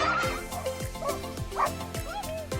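A search and rescue dog on a mountain walk in the Knockmealdown Mountains barks and yips repeatedly, several sharp barks with whimpering tones mixed into the outdoor sound.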